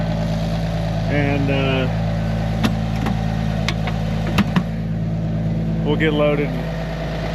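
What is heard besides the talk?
tractor engine idling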